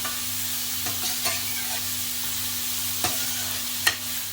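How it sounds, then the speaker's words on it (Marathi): Onion fries in hot oil with a steady, close sizzle that holds the same level throughout. A low hum sits underneath, and a few brief stirring clicks and scrapes break through. "कांदा घालते त्याच्यावर तेल गरम झाले कांदा अगदी थोडा शिजवून घ्यायचा आहे आपल्याला"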